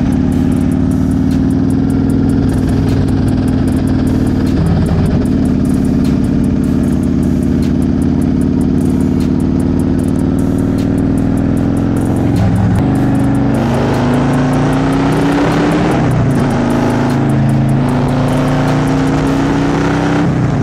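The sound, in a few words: road traffic, cars passing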